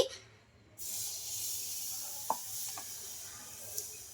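A spoon scrapes and swirls through semiya dosa batter in a bowl, a soft steady hiss with a few faint clicks against the container, starting after a short quiet moment.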